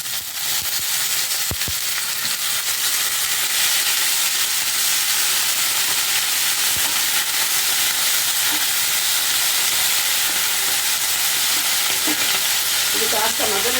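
Fresh coriander and mint leaves fry in a pan for chutney, giving a steady, loud sizzle and hiss throughout, with occasional soft scrapes as they are stirred.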